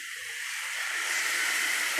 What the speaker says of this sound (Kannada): ಕೋಕೋನಟ್ ಮಿಲ್ಕ್ ಹಾಕ್ಕೊಂಡಿದ್ದೀನಿ ಇವಾಗ ನಾನು.